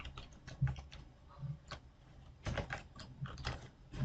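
Computer keyboard typing to rename a folder, quick bursts of soft key clicks with brief pauses, close and quiet with no talk.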